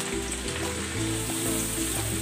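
Spring onion drops into a sauce sizzling in a pan, giving a dense, steady, close frying hiss with faint low clatter beneath and no talk.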